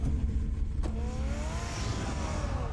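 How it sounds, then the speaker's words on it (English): Bruce Wayne's car driving in a Batman game, with a low engine rumble followed by a rising rev that builds and sweeps upward over a couple of seconds, loud and close. "Hey, look, it's Bruce Wayne's car."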